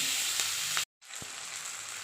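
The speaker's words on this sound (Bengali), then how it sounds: "পেঁয়াজ আর কাঁচা টমেটো ভাজবো আমি" Onion and green tomato frying in a pan, a steady close hiss of sizzling oil that cuts out briefly partway through, then resumes just as loud.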